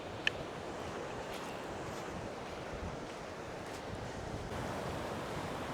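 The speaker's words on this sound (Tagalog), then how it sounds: "Mahangin." Steady wind buffeting the microphone at a seaside resort in Ilocos Norte, with surf washing continuously in the background; a roaring, broadband rush that holds throughout with no voices.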